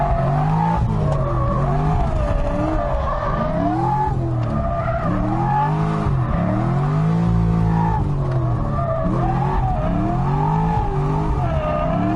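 A 489 whp C6 Corvette drifts with tires squealing loudly, its engine note rising and falling in wavering sweeps as the car slides, close and continuous without speech.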